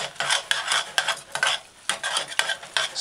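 Mild chili with scallion stirred in a frying pan on a stove at medium-low heat: a spoon scrapes and clatters against the pan in quick repeated strokes over a quiet sizzle, close and fairly loud, without talk.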